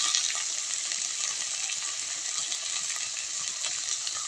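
Spices with salt and turmeric frying and being stirred in a pan for an egg curry, a steady bright sizzle running close and continuous with no voices.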